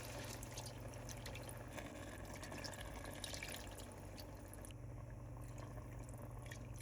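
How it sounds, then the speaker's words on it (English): Chicken stock pours steadily and continuously into a paella pan, a soft, even watery rush with faint splashing throughout. "Pour in 4 cups of chicken stock."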